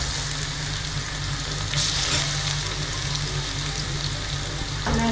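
Curry leaves with crushed ginger and garlic hit hot oil in a pan, giving a steady close sizzle with a brief louder flare of crackling as they go in.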